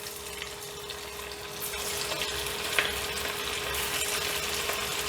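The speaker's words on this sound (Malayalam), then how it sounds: "ഇനി നമുക്ക് ഇതിൽ നിന്ന് കുറേശ്ശെ എടുത്ത് ഇട്ട് കൊടുക്കാം." Chicken pakora deep frying in hot oil over a medium flame, a steady broadband sizzle and bubbling with a faint constant hum underneath, growing slightly louder midway as more batter pieces go in.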